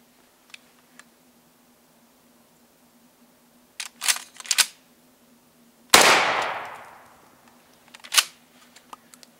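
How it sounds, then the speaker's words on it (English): A single loud, close shotgun blast from a Mossberg 500 fitted with a full choke barrel, ringing out and decaying over a second, surrounded by sparse clicks and mechanical handling sounds outdoors. "first we'll fire off our Mossberg 500 here with the full choke barrel"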